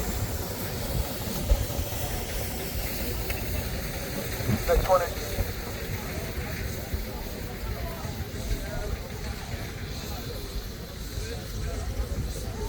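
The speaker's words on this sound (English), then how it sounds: "Number 17 is a 3-inch Marshall track engine" A 3-inch scale Marshall traction steam engine runs at a steam engine rally, giving a continuous hiss and low mechanical churn at moderate distance, with voices talking in the background.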